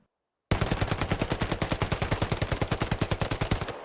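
A Thompson submachine gun in the World War II shooter Hell Let Loose fires one loud, continuous full-auto burst of rapid, evenly spaced shots that starts abruptly after a brief silence.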